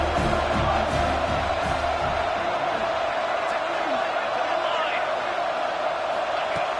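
A dense stadium crowd at a football game cheers and roars steadily at the start of the second half, a loud, continuous wash of voices with no single speaker standing out.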